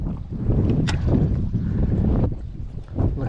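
Wind blowing across open water around a fishing boat during a windy frog-fishing session, a steady broadband rush that buffets the microphone throughout, with no voices.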